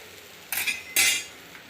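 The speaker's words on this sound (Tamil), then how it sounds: "தோசை மாற்றி போட்டுக்கலாம்." A spatula scrapes twice across a hot pan, turning a millet and wheat flour dosa cooked with a little oil. The two sharp, brief scrapes stand out against a quiet kitchen.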